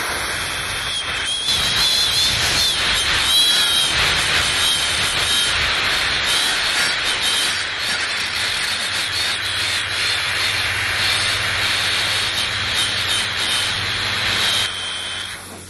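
A Tesla turbine built from hard drive platters spins up toward 13,000 RPM, producing a loud, sustained high whine and rushing roar, close and steady for about fifteen seconds before tapering off at the end, no talk.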